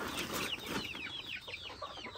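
Chickens cluck and chirp in a village yard, hens with small chicks, a steady busy chatter of short calls close by with no talking.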